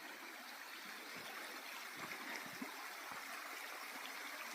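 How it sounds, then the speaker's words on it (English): Steady broadband rush of flowing water from a nearby stream on the Takitimu Track in New Zealand, running continuously with no voices. "Got our water from the stream down here."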